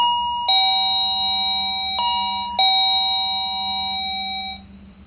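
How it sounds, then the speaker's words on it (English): Wireless doorbell chime under test, ringing electronic ding-dong tones three times in quick succession, loud and close with sustained ringing decays and no talking. "Sounds like the chime, like the standard chime boxes."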